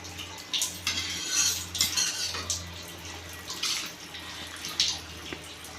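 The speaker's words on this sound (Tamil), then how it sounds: "ஒரு தடவை கிண்டி விட்டுப்போம்" A spoon scrapes and clinks against a pot of simmering bitter gourd kuzhambu in a few irregular strokes, close and fairly quiet over a low background hum.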